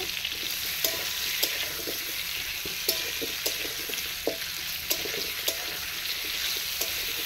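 Pumpkin pieces fry in a pan, a steady broadband sizzle with regular stirring clicks and scrapes about every half second, close and moderately loud, no voices.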